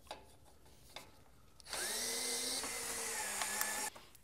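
Power drill whirring for about two seconds as it drives out screws on a Delta 36-725T2 or Ridgid R4560 table saw during blade alignment, starting after a few faint clicks and holding a steady, close, fairly loud tone before cutting off.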